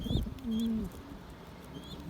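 A pigeon kept by a Turkish fancier coos close by, one low soft coo in the middle of the clip with faint chirps above it, preceded by a brief thump.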